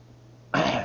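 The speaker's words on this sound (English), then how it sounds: "Sorry, I'm sort of sniffling." A man with a cold clears his throat once: a short, loud, rough burst that breaks abruptly out of near-silence and fades quickly.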